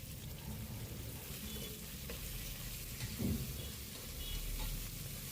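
Chopped onion and green chilli frying in a pan, a soft steady sizzle with faint stirring scrapes and one brief clatter midway, quiet and close with no talking.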